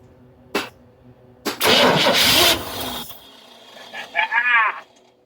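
A Chevy C-10 pickup's engine cranks in a couple of short tries, then a longer loud grinding burst that catches and briefly fires before dying back, followed by rising revving blips, close and loud.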